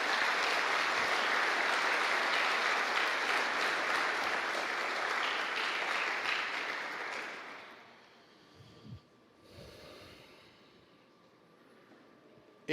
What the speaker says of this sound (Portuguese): Você está com vontade de aplaudir o Senhor?